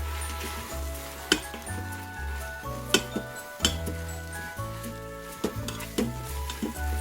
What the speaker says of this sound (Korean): 이 소고기 다시다를 조금 넣어서 같이 볶아줄 거예요